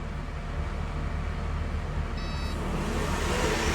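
A Picus bale chopper in a dairy barn powers up, its steady mechanical drone and hum building gradually louder, with a brief high electronic beep partway through.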